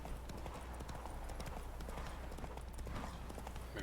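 Roach, a saddled horse in The Witcher 3, gallops through a race with rapid, steady clip-clop hoofbeats close up, running continuously over a dense layer of game ambience with no talk.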